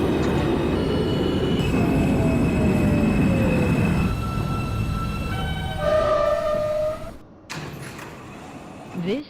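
An R160 New York City subway train runs in the OpenBVE simulator, a loud rumbling ride with tonal motor whine and squealing wheels, easing down before a brief quiet gap and a final burst of noise.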